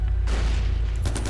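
A burst of gunfire in the Far Cry 4 video game, a short heavy booming blast with rumbling low end, loud and close, over a brief pause before a sharp second crack.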